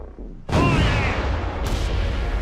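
Cannon fire in the video game Furious Seas, a sudden heavy boom with a rumbling tail and a sharp crack following, loud and close.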